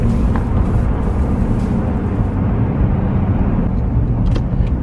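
A car drives along a road, heard from inside the cabin as a steady, loud rumble of engine and tyre noise that continues without a break, with no talking.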